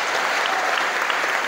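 Dense, loud applause from a seminar audience at an Islamic Quran memorization school for a speaker, a continuous even roar of clapping hands.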